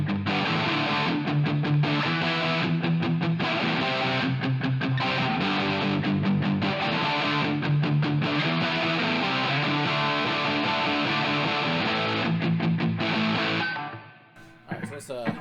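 A distorted electric guitar through a Westminster Effects Exegete drive pedal in distortion mode plays chords and riffs continuously, loud and saturated, then fades out near the end.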